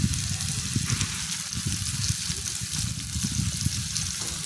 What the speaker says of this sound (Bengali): এবার আমি আরেকটু নাড়াচাড়া করে ভালো করে ভেজে নেব।